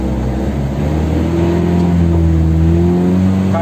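Mitsubishi L300 pickup carrying a heavy load, its engine revving in first gear, a loud close steady drone that climbs slightly in pitch, no talk.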